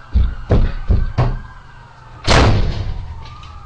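A door is slammed shut indoors: three sharp, loud thuds in quick succession, then one heavier bang with a short rattling decay, close by and with no voices.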